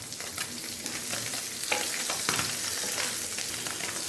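Small local puti fish fry in hot oil with a dense, continuous crackling sizzle, close and steady, with brief scrapes of stirring scattered through it and no voices.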